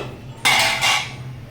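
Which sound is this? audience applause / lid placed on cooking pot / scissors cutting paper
lid placed on cooking pot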